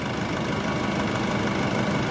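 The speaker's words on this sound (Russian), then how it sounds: "Работа двигателя на холостом ходу." A 2006 Nissan Pathfinder with a 2.5-litre turbodiesel engine idles, giving a steady, close diesel rumble with a faint knocking clatter throughout.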